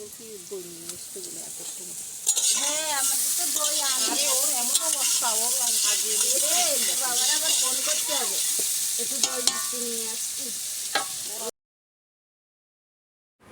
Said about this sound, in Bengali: এখানে ইঁচড় ভেজে নিচ্ছে